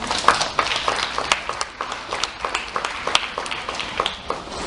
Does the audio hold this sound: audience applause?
yes